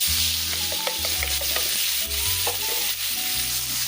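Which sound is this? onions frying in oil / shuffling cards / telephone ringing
onions frying in oil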